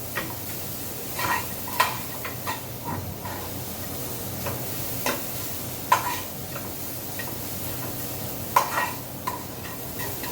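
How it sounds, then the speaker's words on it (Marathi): Chopped ginger and garlic roast in a pan with fennel and coriander, giving a soft dry sizzle broken by periodic scraping stirs and light clinks of a spatula against the pan. "मी आलं आणि लसूण थोडासा कापून घेतलंय तो टाकते आणि हे पण छान भाजून घ्यायचं."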